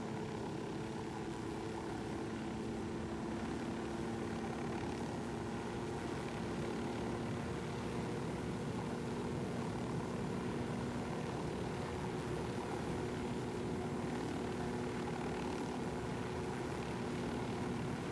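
A steady droning helicopter engine hum with a low rotor-like throb, constant and unchanging throughout, moderately distant, in the video game Ghost Recon: Wildlands.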